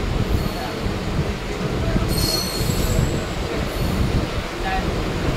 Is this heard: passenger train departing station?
yes